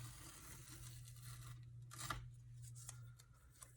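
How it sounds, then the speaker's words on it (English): Green painter's tape is peeled from a painted wood sign, giving faint, close tearing rips and crinkles in a few separate pulls over a low steady hum. "So I'm just taking off the green painter's tape first."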